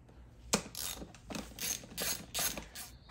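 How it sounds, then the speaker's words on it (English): A hand ratchet fitted with a T40 bit works the bottom bolts on a BMW M1000RR or S1000RR motorcycle, giving six quick, crisp clicking bursts in an uneven rhythm, close and fairly quiet, with no talk. "now we're gonna remove the bottom bolts here, the black ones on each side. This is a T40."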